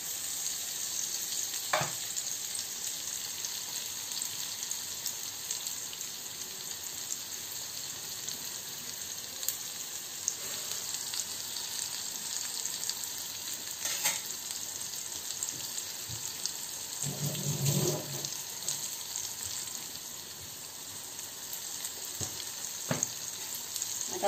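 Green chutney for Mumbai-style batata vada frying in a pan while it is stirred, giving a steady soft sizzle with occasional scraping strokes of the spoon, close and even throughout, with no talking.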